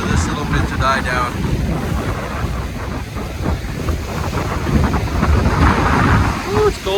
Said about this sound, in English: Alright, the wind's coming in stronger.